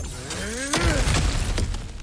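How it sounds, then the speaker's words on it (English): Objects smashing apart in God of War Ragnarok, a sharp shattering crash followed by a second breaking impact, set against a droning musical backdrop. "back to smashing through things for fun and profit"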